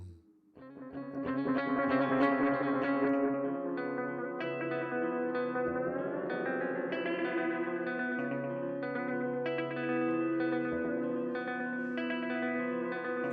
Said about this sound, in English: You can slow this tape all the way down.